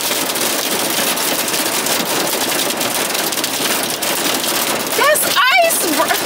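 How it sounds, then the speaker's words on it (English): Hail drums on a van in a dense, loud, steady patter close by, with a voice breaking in briefly near the end. "Yeah, this is my first hailstorm."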